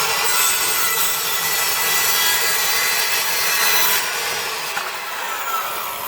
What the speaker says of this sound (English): Piece of MDF.